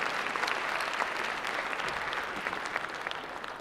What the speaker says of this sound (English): They deserve a hand of applause.